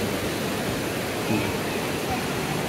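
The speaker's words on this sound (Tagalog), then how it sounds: "Kulit ng ulan eh" Heavy rain pounding on a tent roof over the SM mall in Baguio, a dense, steady roaring hiss that fills the whole stretch, loud and unbroken.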